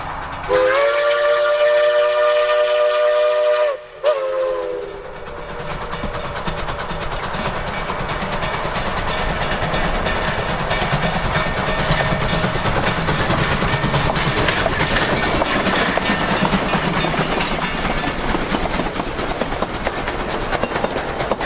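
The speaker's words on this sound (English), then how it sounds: "Rolling through Animas City Park, the train is back in civilization and on the home stretch." A Durango and Silverton narrow gauge steam train opens with a long, loud whistle blast. It then rolls steadily past with continuous clattering wheel and car noise, close and sustained.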